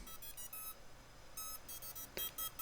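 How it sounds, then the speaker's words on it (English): A series of quiet electronic beeps from a Moblite7 tiny whoop drone powering up, in short rapid clusters, pausing, then repeating with a few slightly different tones, faint and close. "I get a slightly different tone."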